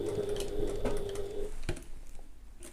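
A sewing machine back stitches a seam on a handbag in one brief, steady run of rapid mechanical whirring that stops partway through, leaving a quieter tail.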